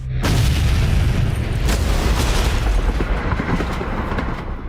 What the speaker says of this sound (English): An hour ago, a bomb blew up the Kremlin.